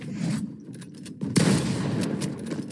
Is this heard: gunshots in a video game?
yes